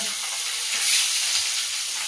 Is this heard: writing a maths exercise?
no